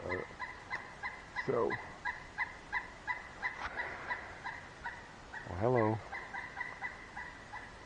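Turkey-like bird gobbling outdoors on a farm, several loud warbling calls in bursts over a faint background, with a voice briefly talking between them.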